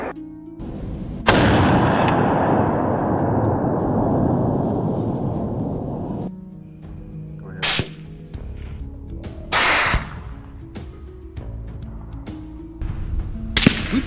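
Gunshots from hunters shooting wild hogs: a long loud roaring blast fades over several seconds, followed by a few sharper, shorter cracks at close range with no talk.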